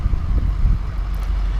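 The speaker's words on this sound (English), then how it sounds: "Very windy, 30 to 35 miles per hour winds." Strong gusts of 30 to 35 mph wind drive through a snowstorm, loud rumbling buffets battering the microphone in uneven bursts, with no talking.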